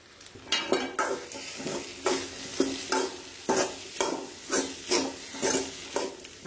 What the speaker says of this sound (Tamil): வெங்காயம் தக்காளி எல்லாம் போட்டு வதக்கணும். அதோடவே ஒரு கை தேங்காயும் போட்டு வதக்கலாம்.